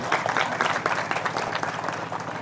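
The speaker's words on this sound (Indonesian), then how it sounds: "Tepuk tangan lagi." Applause from a crowd at an Indonesian speech, a dense, steady patter of clapping that lasts throughout.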